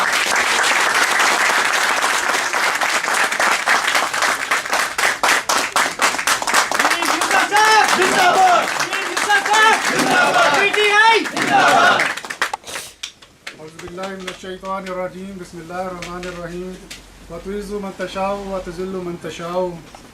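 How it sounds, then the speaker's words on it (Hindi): Loud, dense applause at a PTI Italy party meeting, welcoming a speaker, fading out around the midpoint as a man begins reciting poetry over a quieter room. "अब नहायत भरपूर तालियों में, सबकी भरपूर तालियों में नदीम यूसुफ साहब खिताब फरमाएं।"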